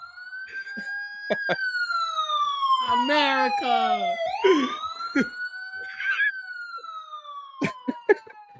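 A voice imitates a wailing police siren, gliding up and down in long sweeping tones, with brief talk and sharp clicks breaking in.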